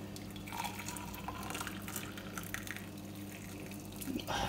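Water is poured from a tap or kettle into a double-walled borosilicate glass mug, a steady splashing, trickling stream with some dripping, close and alone.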